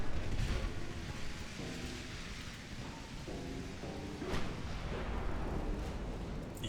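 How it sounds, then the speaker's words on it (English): Warship main guns firing in the naval video game Ultimate Admiral Dreadnoughts: faint, distant booms that roll into a low, rain-like rumble, with no talk. "my main guns are changing to another target. Good hit, good hit."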